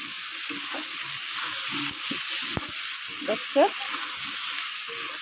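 Cabbage with green peas and chillies sizzles steadily in a wok, a constant hiss under a person talking nearby. A sharp knock of the spatula cuts through partway.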